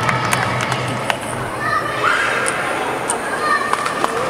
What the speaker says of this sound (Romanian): Aplauze, Teodor Codar.